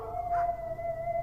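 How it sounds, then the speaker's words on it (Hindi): Village dogs howl at night in a long, steady, mournful tone that holds and wavers slightly over low background noise, without speech. "गांव के वो कुत्ते जिन्हें मैं रोज रात को रोटी डालती थी, अचानक अजीब सी आवाज में रोने लगे थे।"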